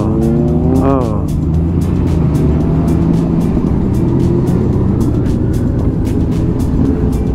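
City traffic in Cotabato rumbles loudly and continuously with engines and passing vehicles, a rising horn-like tone near the start, while someone talks over it.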